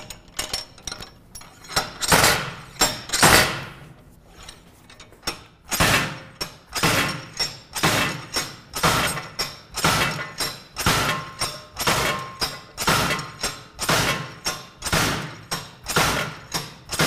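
Slide hammer yanking a seized, rusted part loose on a 2014 Chevy: a steady run of sharp metallic knocks, roughly one per second after a brief pause, loud and close, with no talk.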